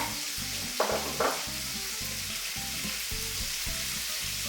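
Onions fry in a pan with a steady, close broadband sizzle, broken by two brief louder stirring scrapes near the start, with a faint low hum and no talking.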